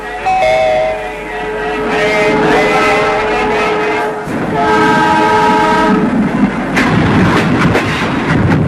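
A train pulls into a station platform as its horn blows in long sustained tones over the rumble of the cars, loud and close, lasting most of the stretch with no talking.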